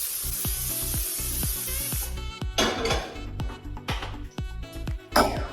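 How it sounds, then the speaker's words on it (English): A long hiss of butter cooking spray from a can into a heated pan, a steady spray followed by a few shorter bursts, with light clinks of the pan between. "That was a very long spray of butter."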